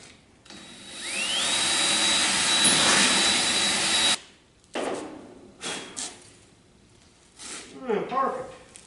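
A drill with a bit bores bolt holes for a custom fabricated camera stand, a loud whining run rising in pitch then holding for about three seconds before cutting off, followed by short bursts, clanks and nearby talk.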